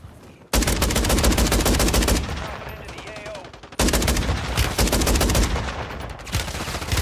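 Rapid shotgun fire in the video game Warzone, loud sustained bursts of shots broken by two brief pauses, with no talk over it.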